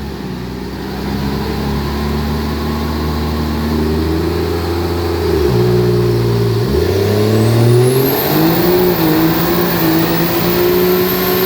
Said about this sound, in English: it might be a little bit of a brake stand here, because trying to spool up the turbos